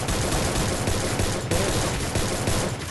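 Dense, rapid gunfire from a player shooting in a video game, a continuous loud burst of overlapping shots filling three seconds with no pause.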